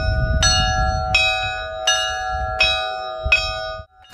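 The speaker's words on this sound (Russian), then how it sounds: "Впервые почти за 100 лет над селом Малахово разносится колокольный звон" Church bells ring out over the village of Malakhovo from a newly built church: a steady, measured series of bright, resonant strikes, about five in this stretch, with long humming overtones and no voices.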